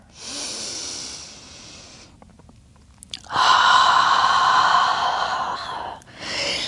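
Deep, slow breaths during a prenatal yoga stretch: a long airy exhale, a quiet pause, then a louder, fuller breath in and out, with no talking.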